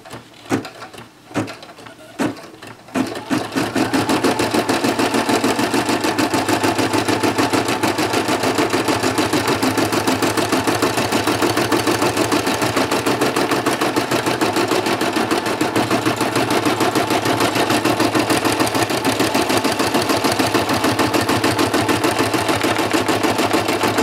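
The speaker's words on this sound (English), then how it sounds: "And now this is going to be the satin stitching, so this is going to be the last part of framing our dinosaur here." Embroidery sewing machine satin stitching to frame a dinosaur applique on an octagon design: a few separate clicks at first, then a loud, fast, continuous mechanical whirr that runs unbroken to the end.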